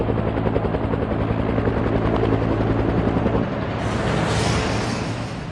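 An army attack helicopter roars loud and close, its rotor thumping steadily and a high turbine whine rising partway through, with no voices.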